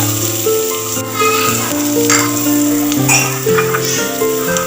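Turmeric, garam masala, coriander leaves and curry leaves sauté loudly in a pan for a meat pathiri filling. The sizzle is steady and close, with children's voices and a tonal background running throughout.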